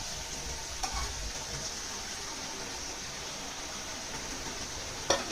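Spices sizzle and are stirred in a hot pan for a tomato rohu fish curry, a steady hiss with a few scraping stirs and a sharper clatter near the end, no talking.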